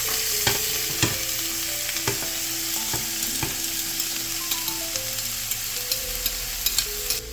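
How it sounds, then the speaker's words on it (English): Bell peppers and onion sizzling in a hot pan with a constant crackling hiss, while a utensil scrapes and clicks against the pan in repeated stirring strokes. "Now to the same pan, while it's hot, we're gonna go ahead and add our bell peppers and onion."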